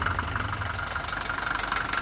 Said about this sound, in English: I always liked sound of diesel engine.